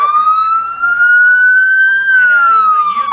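Goldfield ambulance siren sounding loud and close at the tail end of the Goldfield Days Parade, a steady rising and falling wail that holds for the whole stretch.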